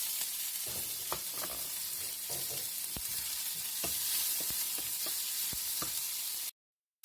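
Onion and ham sauté in a pan for a creamy baked pasta, with a bright, steady sizzle and occasional soft clicks of stirring. The sound stops abruptly near the end.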